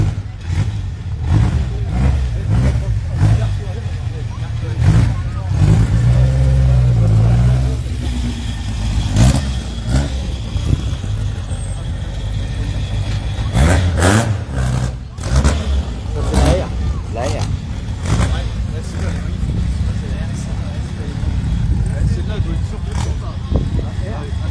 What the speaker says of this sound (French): la voiture qui arrive là avec l'aileron arrière, c'est la Alpine A110R, tout en carbone, version 300 chevaux